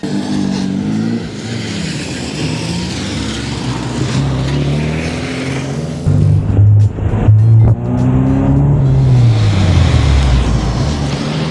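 Classic Mini cars driving around an arena at a car show, engines loud and close, revving and passing by with rising and falling pitch, one growling pass standing out midway.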